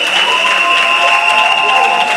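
A church congregation applauding and cheering to acclaim the Lord, loud continuous clapping with crowd noise and a sustained held tone running underneath, steady from start to finish.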